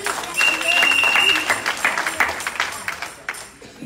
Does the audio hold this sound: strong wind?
no